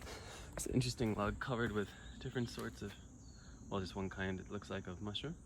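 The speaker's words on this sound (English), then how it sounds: "You can hear the cicada in the background." A cicada shrills steadily in the background outdoors in Japan, a continuous high buzzing drone held beneath someone talking close to the microphone throughout.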